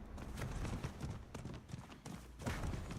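Horse hooves clip-clop in a quick, steady rhythm in the video game Diablo IV, fairly loud and close, over a busy background wash.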